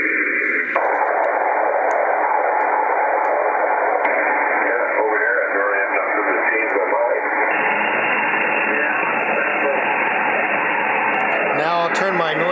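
A FlexRadio 6600M receiver with its EQ set to sound like an ordinary radio carries a voice through steady band-limited hiss, loud and continuous, with the tone shifting slightly partway through.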